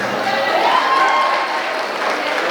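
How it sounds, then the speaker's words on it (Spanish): Audience applause at a welcome ceremony in Quillacollo, a brief wash of clapping with a faint crowd murmur, steady and moderately loud throughout. "Fuertes los aplausos, por favor."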